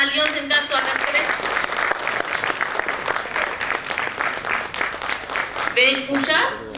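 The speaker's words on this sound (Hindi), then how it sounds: "जोरदार तालियों से इनका स्वागत करें" A theatre audience applauds a music director coming on stage, sustained clapping throughout with a voice talking over it at the start and again near the end.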